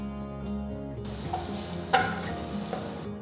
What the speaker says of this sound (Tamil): நறுக்கின 3 பச்சை மிளகாய், நறுக்கின 1 துண்டு இஞ்சி சேர்த்து வதக்குங்க